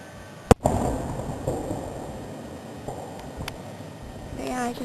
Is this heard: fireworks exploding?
yes